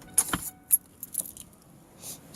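Car keys jangle in a few short, sharp bursts, close by, with quiet pauses between shakes.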